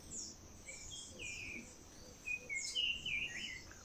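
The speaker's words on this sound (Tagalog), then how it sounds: "Huni pa ng huni itong isa eh." A wild bird calls outdoors during a bird hunt, giving repeated high chirps and short trills that grow busier toward the end, moderately loud over a steady background of insect buzzing.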